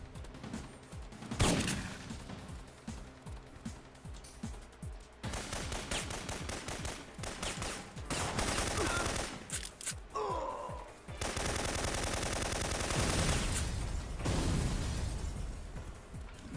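Shotgun blasts ring out in the PlayStation game Syphon Filter, loud bursts of gunfire mixed with rapid automatic fire and explosions throughout, dense and continuous with brief gaps.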